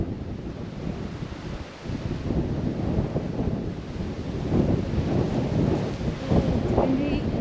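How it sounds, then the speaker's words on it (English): Strong coastal wind from an approaching storm buffets the microphone in a steady low roar, with louder gusts building over several seconds and faint rumbling beneath. "It's windy and cold."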